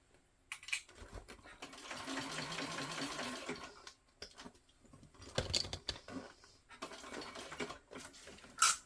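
A sewing machine topstitches fabric in short, fast runs of rapid needle chatter, broken by brief pauses and quieter handling noises, with a final sharp click at the end.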